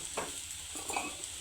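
Prawns frying in a pan sizzle steadily while a utensil stirs them, adding a few scraping clicks over the continuous hiss, close and moderately loud.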